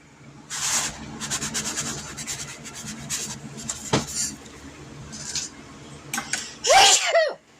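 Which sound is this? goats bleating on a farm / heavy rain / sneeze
sneeze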